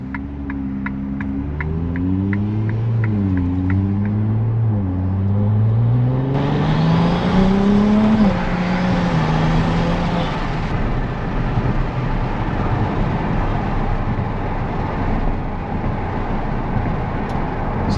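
A 2025 Ferrari 296 GTB accelerates hard through the gears, its engine note climbing and dropping with each shift, then giving way to a steady loud roar of road and wind noise.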